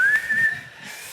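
A person whistles a thin, steady high note, wavering slightly as it holds, then fading softer toward the end of a short burst.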